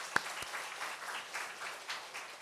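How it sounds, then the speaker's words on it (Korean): A church congregation at a Sunday service claps softly and steadily for a couple of seconds, faint and somewhat distant, after one sharp knock near the start. "축복하는 마음으로 다시 한번 박수하십시다"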